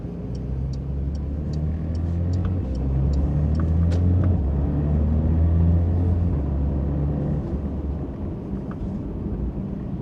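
A Porsche 992 GT3 cruises casually out of a residential neighborhood, its engine a loud, steady low rumble heard from inside the car, with faint light ticks above it.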